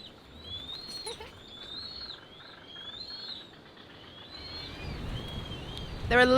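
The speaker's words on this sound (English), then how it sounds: "There are loads of these black noddy terns nesting here at the moment." Black noddy terns call at a busy nesting colony, a series of thin, repeated chirping cries drifting over a soft wind-like hiss, with a louder rustle at the end.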